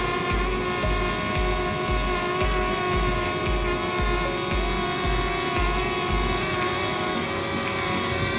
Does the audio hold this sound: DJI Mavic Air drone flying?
yes